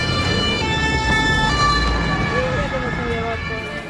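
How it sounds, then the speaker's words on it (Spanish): Ambulance sirens wail continuously as the vehicles push their way through a large crowd, loud and steady with traffic rumble and crowd noise underneath. "Ese fue el paso raudo de las ambulancias abriéndose camino en medio de la multitud presente."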